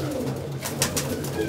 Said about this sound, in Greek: Αυτά είναι τα πουλιά του Χριστάρα